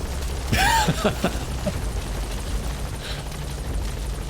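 Steady low helicopter rotor rumble from the Metal Gear Solid V video game, continuous throughout at moderate loudness, with a brief voice early on.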